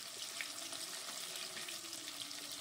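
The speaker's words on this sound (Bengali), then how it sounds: "এবার আলুগুলো আমি একটু ভালো করে ভেজে নেব।" Diced potatoes frying in a pan, a steady soft sizzle with faint crackles holding at an even low level throughout, with no talk over it.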